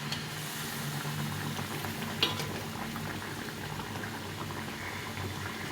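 Mustard-onion sauce for bata fish boils gently in a pan, with soft, steady bubbling and faint sizzling heard close up.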